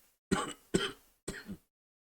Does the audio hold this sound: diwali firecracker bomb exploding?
no